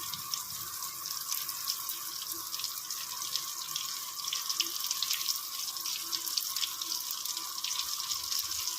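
Eggplant pieces fry in oil in a nonstick pan, making a soft, continuous hissing sizzle that stays faint and even, with small crackles scattered through it.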